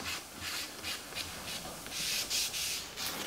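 An electric guitar body of wood being hand-sanded before lacquering, a steady rhythm of rasping back-and-forth strokes, close and fairly quiet, with no voices.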